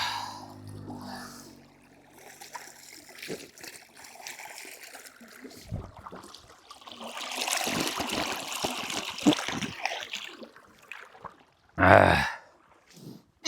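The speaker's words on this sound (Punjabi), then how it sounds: "ਦੇਖੋ ਸਾਹਮਣੇ ਵਾਲੀ ਸੋਲਰ ਦਾ ਪਾਣੀ ਆਉਂਦਾ" Water gushes from a solar-powered pump outlet beside a farm field, a soft broadband rush that swells in the middle and ends with a short, louder splash near the close.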